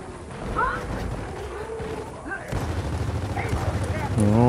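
Gunfire in the video game Gears of War 4 on the Clocktower map, including a headshot. Shots and booming hits come in a busy stretch of game noise, with a voice faintly present.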